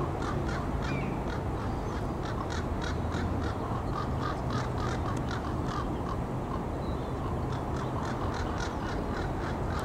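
Several crows caw repeatedly in the distance, overlapping harsh calls over a constant noisy outdoor background.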